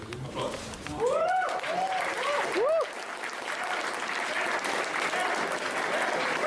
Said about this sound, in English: May I ask all of the grooms to walk forward? Applause.